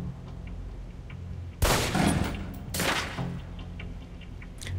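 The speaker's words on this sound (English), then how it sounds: "Equip the pistol, then aim down range and take some shots at the target." Pistol shots fired at a target in the video game Alpha Protocol: two loud, sharp reports about a second apart, each with a short ringing tail, over faint ticking room noise.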